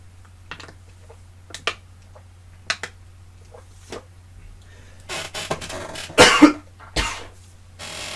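Scattered short throat clearing and coughing bursts, several soft isolated ones followed by a louder cluster near the end, over a low steady hum in a quiet room.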